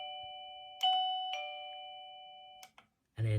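A plug-in wireless doorbell chime rings again, a two-tone ding-dong that fades slowly, followed by soft clicks and a brief bit of a voice at the end.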